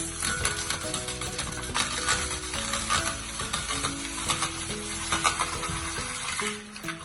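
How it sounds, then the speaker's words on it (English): A hand-cranked Saladmaster slicer cuts a washed onion, giving a steady mechanical ratcheting and whirring. Background music with sustained tones plays throughout the seven seconds. "I'm going to use my precious Saladmaster machine to slice it"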